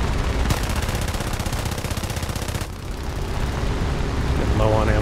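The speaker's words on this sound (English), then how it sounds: "Plenty of ammo. A few shots to keep them honest." Aircraft machine guns firing in War Thunder air realistic battle in a D.373 fighter, long rapid rattling bursts over a loud engine drone, one burst stopping midway before another starts, with a voice talking over it.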